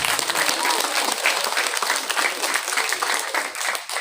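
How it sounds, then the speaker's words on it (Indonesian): Audience clapping during a school principal's speech at MTsN 1 Labuhanbatu, a dense, even burst of applause from a large crowd lasting several seconds, with faint voices mixed in. "Kasih tepuk tangan."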